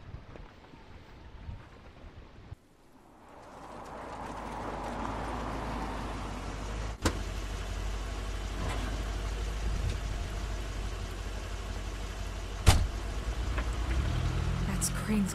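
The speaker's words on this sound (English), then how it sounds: "That's Crane's car." A car engine idles in The Wolf Among Us video game: a steady low rumble that starts a few seconds in and carries on evenly at moderate loudness, with a couple of sharp clicks over it.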